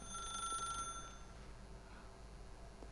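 A telephone rings in The Stanley Parable video game, a steady electronic ringing tone that holds through the moment alone and then fades slightly.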